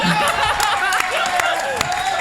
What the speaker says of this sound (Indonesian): Boleh minta tepuk tangannya teman-teman